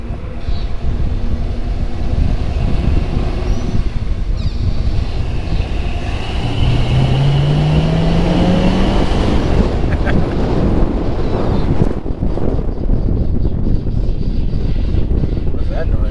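A loud, steady carbureted engine roar from a Toyota Land Cruiser FJ60 under heavy wind rush on the move, with a rising tone at one point; occasional speech mixed in.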